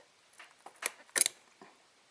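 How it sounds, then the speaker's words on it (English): Small needle nose pliers working at the needle seat of a Mikuni carburetor from a Yamaha quad, giving a few light metallic clicks and scrapes, the sharpest pair of snaps near the middle, close and otherwise quiet. "Now we're going to take our small pair of needle nose pliers"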